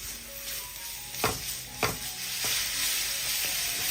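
Beans and carrot strips being stirred in a hot pan, a loud hiss of frying broken by a few sharp spatula scrapes, up close with no voices.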